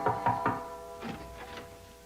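Knocking on a door, three quick firm raps followed after a pause by three softer ones, close by and with no talking.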